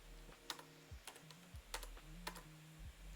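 A handful of sparse keystrokes tapped on a computer keyboard during Windows Server work, light and close, in short uneven bursts over a faint steady hum, with no talking.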